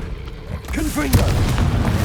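A Confringo fire spell goes off in Hogwarts Legacy: a rolling boom with a sharp burst a little past the middle, over a steady rumble of game effects, with a short voice-like tone just before it.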